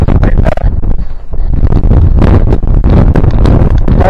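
Strong wind gusting at 40 to 50 miles an hour on an open Welsh hilltop, roaring and buffeting the microphone in loud, continuous bursts with no talking.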